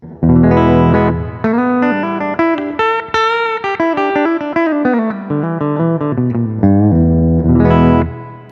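Wolf WLP electric guitar played on its bridge pickup, loud and close: sustained chords followed by a run of bright picked notes, ringing with light effects and ending on a held chord, no talking.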